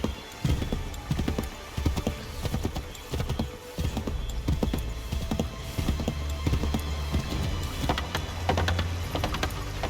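Hoofbeats of a horse galloping in Assassin's Creed III pound close and loud in a steady, continuous rhythm with no pause.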